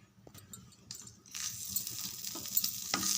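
Curry leaves sautéing in a pan: a few soft clicks and scrapes at first, then a fuller, steady sizzle that builds and holds, close by and fairly faint, with no talking.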